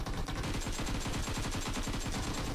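Rapid automatic gunfire from PUBG Mobile, a quick string of sharp repeated shots in steady rhythm, loud and close, lasting the whole moment with no talk.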